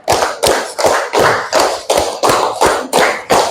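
A classroom of students clapping in unison in a counted pattern: eight crisp, evenly spaced group claps, close and loud, keeping a steady rhythm with no talking.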